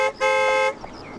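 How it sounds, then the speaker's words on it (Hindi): A car horn gives a short toot, then a longer, louder blast, close by, with a faint background hum afterward. "अरे हॉर्न मारो ना भाई"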